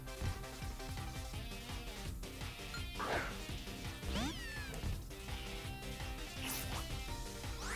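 Cat Pokemon cries during a battle in Pokemon Ultra Moon, short meowing calls and sweeping chirps over busy, loud battle music and effects.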